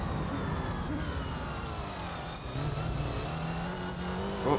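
A Ford GT race car engine in the Gran Turismo 3 racing game on a desert rally-style track, a loud steady drone with engine harmonics held through the whole stretch and a slight dip midway, with no talk.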